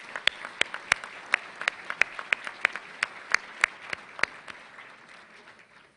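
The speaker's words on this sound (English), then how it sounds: "I would like us to give them a round of applause" An audience at a gala luncheon applauds, a scattered round of distinct claps that grows in density and then gradually thins out and fades.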